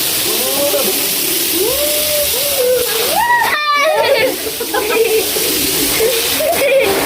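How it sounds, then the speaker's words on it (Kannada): Water gushes forcefully from a borewell pipe once the pump starts, a steady splashing rush heard close by while voices talk and call out over it. "ನೀರು ಬರ್ತಾ ಇದೆ."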